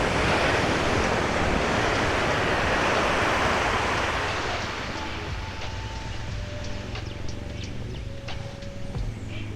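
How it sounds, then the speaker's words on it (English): Surf washes onto Kata Beach in Phuket, a broad, steady roar of breaking waves that eases a little partway through, with wind buffeting the microphone. "I can't complain about this beach."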